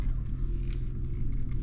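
A 2025 Lexus GX 550 Overtrail crawls off-road through clayey mud, giving a close, steady low engine rumble with slight fluctuations over its short span.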